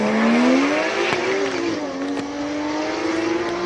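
A Porsche GTS race car at the Cape Town hill climb, its engine holding a steady, loud note that rises slightly and then settles as it drives, close by.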